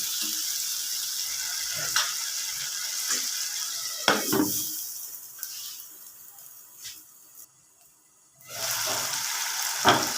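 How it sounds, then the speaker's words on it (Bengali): Spices cook down in a pan with a little water for a small river-prawn and okra curry, giving a steady close sizzle with bursts of stirring scrapes and a brief quiet lull before the frying resumes. "মশলাগুলো ভালো করে কষিয়ে নিব।"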